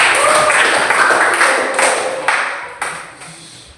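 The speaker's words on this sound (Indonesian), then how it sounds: "Oke, kasih dia tepuk tangan dulu." Audience clapping at a church talent gathering, a dense burst of applause that gradually thins and fades, with a few isolated claps near the end.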